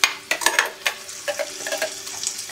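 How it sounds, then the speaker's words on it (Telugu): Ground gravy paste fries in oil with tomatoes, giving a soft sizzle broken by scrapes and clinks of a spoon against the pan. The stirring comes in short bursts, close, with no one talking. "ఈ గ్రేవీ పేస్ట్ అంతా కూడా ఆయిల్లో బాగా వేగి నూనె పైకి తేలేలాగా వేయించుకోవాలి."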